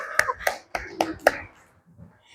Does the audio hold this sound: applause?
yes